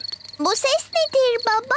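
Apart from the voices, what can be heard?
crickets chirping at night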